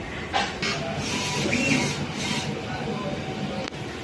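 A DTF printer running, a continuous mechanical whir with faint rhythmic shuttling and brief clicks, fairly loud and close, with no one talking.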